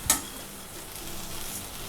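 Cashews and poppy seeds sautéing in a pan for makhana curry, with a soft stir-scrape at the start followed by a low, steady sizzle close by.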